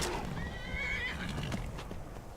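A horse in Skyrim gives one clear whinny that rises and quavers, with soft hoof clip-clops and light game ambience around it and no talk.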